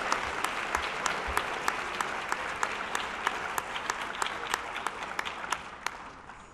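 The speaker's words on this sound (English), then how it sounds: "Let's give them a round of applause." An audience at a science fair awards ceremony applauds the winners, a dense steady patter of many hands clapping that holds for several seconds and then begins to thin out.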